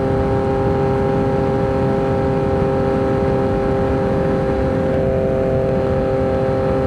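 Constant loud engine drone and wind rush from a Yamaha MT-09 motorcycle fitted with clip-on bars while riding on the road, a steady hum with no pauses throughout.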